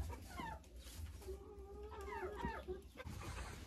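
Hens fed beetroot clucking in a coop, with several soft, uneven clucks and short calls rising over a steady low farmyard hum, close by and moderately loud.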